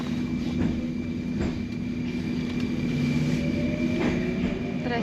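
A loud Russian metro train rushes along the tracks with a constant roaring rumble, a high steady whine and occasional metallic clatters and squeals, close and continuous.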